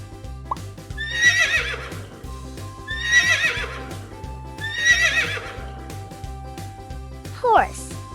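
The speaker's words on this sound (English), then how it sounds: "Horse." A horse neighs three times in evenly spaced shrill whinnies over a looping music beat in a children's farm-animal counting cartoon, with a brief rising squeak near the end.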